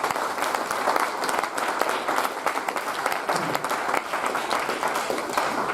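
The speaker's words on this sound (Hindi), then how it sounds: "इनको जोरदार तालियों से विदा करिए" Loud, close audience applause at a sales training talk, a vigorous crowd clapping with sharp individual claps standing out from the dense steady roar.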